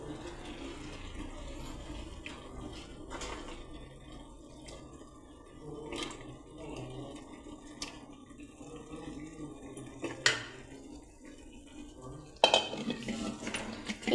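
Finely chopped chicken goes into a simmering masala in a pot, with metal spoon clinks, pan knocks and soft stirring, fairly quiet with a few sharp clatters.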